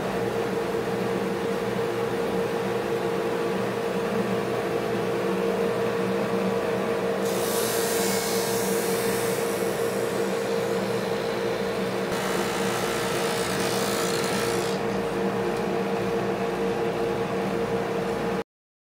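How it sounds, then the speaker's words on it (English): A drum sander grinds across a cured epoxy and wood piece with a steady, loud abrasive roar and a constant motor hum, its hiss swelling louder during two stretches as the workpiece passes under the drum. "That first pass through the drum sander really is kind of played by ear. You're listening for it just to kind of barely scrape the top"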